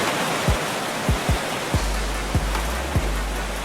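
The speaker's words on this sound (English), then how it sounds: "we got like a waterfall right here" A waterfall in the Roblox game Vehicle Legends gives off a constant hiss of rushing water, broken by a few soft low thumps.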